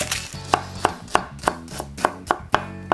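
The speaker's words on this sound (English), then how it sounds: "We're going to take 4 of these shallots and we're also going to chop them coarse." Shallots are chopped coarsely with a knife on a cutting board, giving eight or nine sharp, evenly spaced blade strikes in a steady rhythm. The strikes sound close and clear, with no talking.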